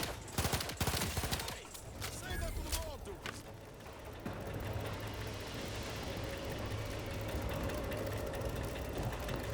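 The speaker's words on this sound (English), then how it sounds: "I fucking love this pistol." Pistol gunfire in the video game The Outer Worlds 2: a quick burst of sharp shots early on gives way to a steady rumbling din of engine-like noise, with someone talking over it.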